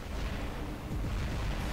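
Booming gunfire from combat robots in War Robots, dense and continuous with heavy low thuds and a rumbling blast texture throughout the short burst.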